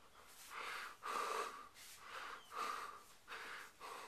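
Heavy, rhythmic breathing from a man right after eating chicken, close to the microphone, with about six loud snorting breaths in a steady cycle and no talking.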